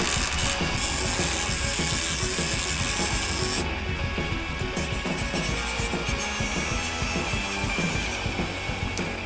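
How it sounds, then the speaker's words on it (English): A machine grinds and rasps steadily through a Walmart fork in one continuous gritty metal-cutting noise with a rapid ratchet-like chatter, loud and close, with no talk. "Let's use this machine to see how easy it is to cut each one of them."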